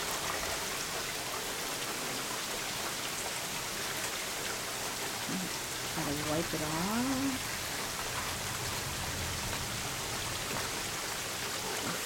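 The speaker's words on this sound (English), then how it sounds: "It's been raining off and on real hard all day." Steady rain from a summer thunderstorm, an even, hissing patter that holds constant throughout, with a brief voice speaking faintly partway through.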